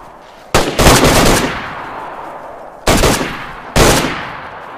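Loud gunfire in DayZ during a bear hunt: a burst of several rapid shots near the start, then two more separate sharp shots a second apart, close and unaccompanied by talk.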